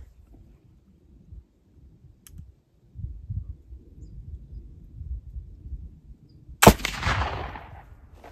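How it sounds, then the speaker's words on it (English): A black powder gunshot fired with remilled Goex powder cracks once near the end, sharp and loud, with a long fading rumble and some low handling noise before it. "here's shot number 3 with the remilled Goex"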